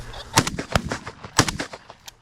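Shotgun fire on a pheasant hunt, with several sharp, loud cracks in quick irregular succession, outdoors and close.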